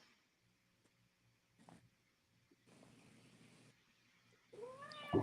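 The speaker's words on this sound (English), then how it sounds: "You got a cat in the background." A house cat meows faintly in the background of a quiet indoor room, with a few soft, brief cries and a louder one at the end.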